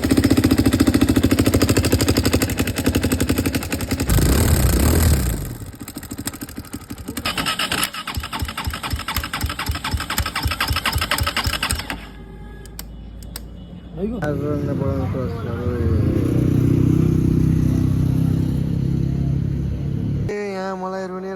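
A motorcycle with a failing engine runs loud and rough, with a rapid pulsing throb, a brief drop in the middle and a rattling idle later, while people talk over it.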